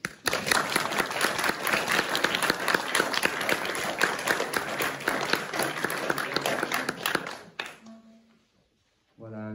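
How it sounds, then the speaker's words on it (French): A congregation at a Protestant church service in Montpellier claps steadily for about seven seconds, a dense and fairly loud patter that stops abruptly, followed by a short quiet pause and a voice beginning to speak. "On peut l'applaudir."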